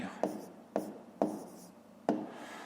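Numbers are written by hand on paper at close range, with four short, scratchy pen strokes spaced unevenly apart. The strokes are quiet and stand alone against a soft background.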